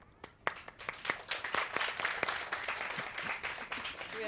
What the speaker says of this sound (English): We are clapping for you.